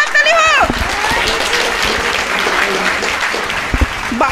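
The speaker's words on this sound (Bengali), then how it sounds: "একটা জোরে হাততালি হোক।" An audience claps for a prize presentation at a neighbourhood Durga Puja competition, with dense, steady applause following a brief voice at the start.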